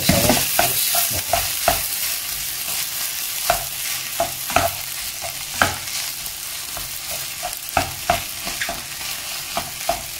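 Rice stir-fried in a pan for Chinese three-delicacies fried rice, with a steady sizzle and repeated scraping, stirring strokes at an irregular rhythm, close and fairly loud with no talking.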